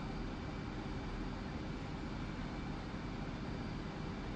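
A fixed-wing aircraft engine in Digital Combat Simulator hums as a low, steady drone during a fogged-in approach. It stays constant and fairly faint throughout, with no voices.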